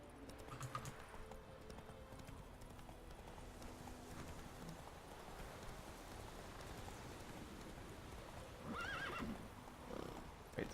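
Roach the horse in The Witcher 3 video game whinnies and clip-clops, hoofbeats running steadily under a soft rain-like patter, with a sharper neigh near the end and no speech.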